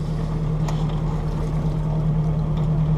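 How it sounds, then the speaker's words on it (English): A sailboat's motor drones steadily at sea while the boat clips along at about 3.5 knots, a constant low hum with wind and water noise and no talk. "I got the motor running. Motor's been actually running for the last 12 hours."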